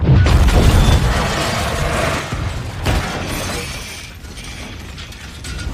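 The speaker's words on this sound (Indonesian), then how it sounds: "terjadi sebuah ledakan besar yang membuat laboratorium tempat itu berantakan" A loud, crashing burst with shattering debris and rattling mechanical clatter that gradually subsides, from a big explosion wrecking a laboratory.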